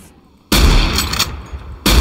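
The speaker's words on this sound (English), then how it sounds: "I'm just shooting beer bottles for target practice" Gunshots ring out in the Organ Trail video game as beer bottles are shot for target practice. A loud, close blast is followed by a second burst near the end, each with a crackling tail.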